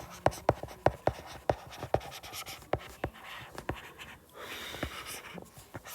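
Writing on a board during a physics lecture on electromagnetic induction, heard as quick, close taps and short scratching strokes in an uneven rhythm with no talking.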